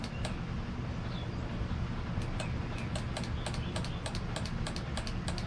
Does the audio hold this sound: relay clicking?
yes